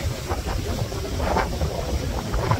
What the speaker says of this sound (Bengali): এত বাতাস দেয় এখানে